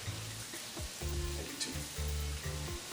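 Onions, garlic and mushrooms sizzle in a pan with a soft crackling hiss, overlaid by the hum of a stovetop or extractor fan, with occasional stirring scrapes.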